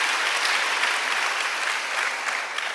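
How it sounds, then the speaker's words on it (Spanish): A church congregation at a Pentecost service claps together, a dense, even roar of applause filling the room without pause, loud and sustained. "Démosle palmas al Señor"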